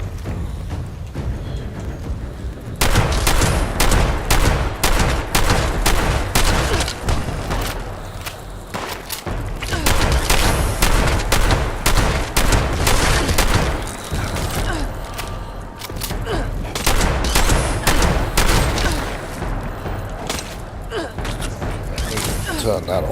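Gunfire in the video game Fallout 76: loud, rapid bursts of shots repeating in clusters across the span, mixed with game thumps and clatter.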